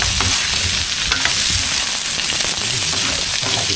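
Food sautéing in a pan gives a steady, close sizzle and crackle with light stirring scrapes running throughout.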